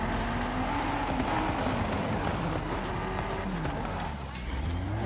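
Engine drone and tyre noise from a Cupra Formentor power sliding in the racing game Forza Horizon 5, a loud continuous rising and falling rev with some scrub, steady throughout with faint speech beneath.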